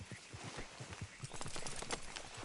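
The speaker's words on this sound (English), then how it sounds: "I'll take his horse" Horse hooves clip-clopping in a video game at a steady walking rhythm, quiet and somewhat distant under a broad background wash.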